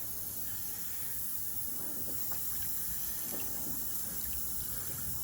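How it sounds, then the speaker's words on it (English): Tap water runs into a sink to rinse an etching board, giving a steady, fairly quiet hiss and splash that barely changes throughout, with faint knocks of the board under the stream. "I'm going to rinse off the board here."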